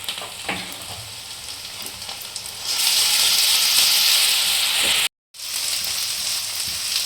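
Ginger-garlic paste with green chili and spices fries in a pan. A steady sizzle jumps to a louder, brighter hiss partway through, then cuts out for a moment before the frying resumes.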